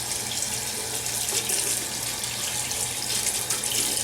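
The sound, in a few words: washing hands under running tap water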